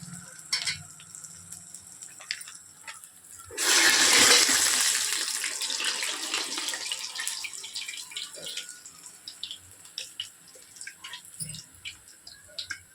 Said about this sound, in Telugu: గారె ఒత్తుకొని నూనెలో వేసుకోవాలి.